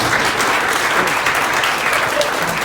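An audience applauds loudly and continuously at a gathering, dense clapping holding at an even level throughout without any talk.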